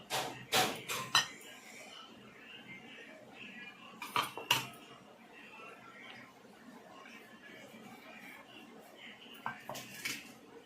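Ground spices are stirred in a metal cooking vessel, making clattering scrapes and clinks in short bursts with quiet stretches between them.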